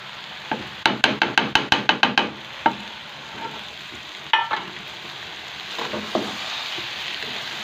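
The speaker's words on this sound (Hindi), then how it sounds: "तो अभी हम इसमें वो फ्राई की हुई आलू और गोभी ऐड कर रहे" A spatula clatters in quick metallic strikes against a pan while fried potatoes and cauliflower are stirred, a rapid burst of about a dozen knocks followed by sparser scrapes over a low sizzle.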